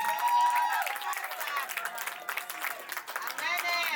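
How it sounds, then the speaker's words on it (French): Audience applauding at a family celebration, a continuous wash of clapping with people talking and calling out over it, moderately loud throughout. "Voilà, nous acclamons."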